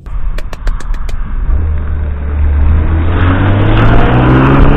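An Acura NSX sports car, driven in winter conditions, revs hard. Its engine note climbs steadily and loudly, heard close and continuously, with a few sharp clicks near the start.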